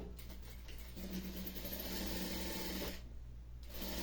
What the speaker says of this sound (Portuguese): Eu vou costurar aqui a lateral.